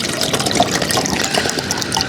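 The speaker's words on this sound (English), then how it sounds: "Let's pour our water in." Water poured from a bottle into a small camping cook pot on a portable stove kit, a steady close splashing trickle that runs continuously for about two seconds with no talk.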